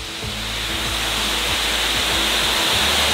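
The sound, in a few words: waterfall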